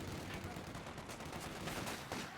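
Rifle gunfire in Company of Heroes 2, SVT and Mosin rifles trading shots with a battle raging, dense overlapping cracks and distant booms blending into a constant loud roar of combat.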